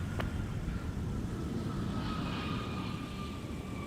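A Sun Country airliner departs runway 17 at Minneapolis–St. Paul airport as a distant, faint, steady jet roar with broad rumbling noise, unbroken for the few seconds heard.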